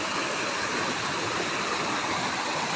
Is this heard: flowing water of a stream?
yes